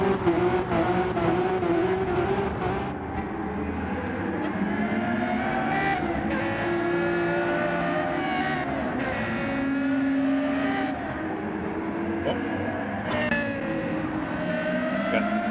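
Race cars in Gran Turismo 7 roar steadily through a lap, engines droning and shifting pitch continuously with occasional tire squeal, loud and unbroken throughout.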